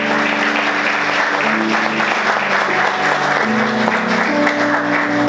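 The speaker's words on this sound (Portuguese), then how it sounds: "Vamos aplaudir Jesus." A church congregation applauds steadily throughout, a dense wash of many hands clapping, with a sustained organ or keyboard chord held underneath and shifting pitch partway through.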